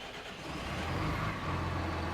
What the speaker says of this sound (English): the engine didn't want to start